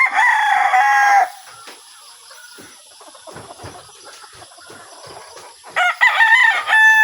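A sweater crossbreed gamefowl rooster in a backyard flock crows loudly and close at the start, then clucks softly through a quieter stretch before a second strong crow near the end.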